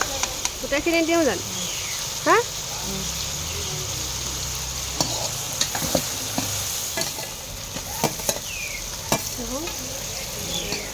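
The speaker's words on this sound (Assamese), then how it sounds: "এয়া মাংস বৰ্তমান তাই ভাজি আছে" Goat meat sizzles steadily in a hot pan with turmeric and salt while a spoon scrapes and stirs now and then, with faint chirping in the background.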